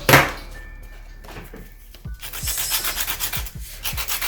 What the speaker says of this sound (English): I'm just gonna edge away with my box cutter like this.